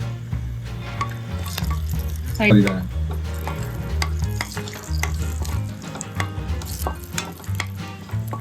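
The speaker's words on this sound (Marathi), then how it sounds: "फोडणीसाठी आपण घेतोय पहिला तेजपत्ता, त्यानंतर हे जे गरम मसाले आपण घेतले ते टाकायचे" Bay leaf and whole garam masala spices sizzle in hot oil for a tempering for a fresh cashew curry, a close, steady frying hiss with crackles and the scrape of stirring, with one brief louder burst.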